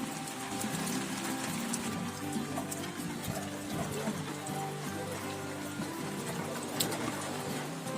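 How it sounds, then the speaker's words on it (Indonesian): Steady rain falls at a hiking post on Mount Arjuno, a dense, even patter of drops that continues without break throughout, with no talk. "Disambut mesra dengan turunnya hujan."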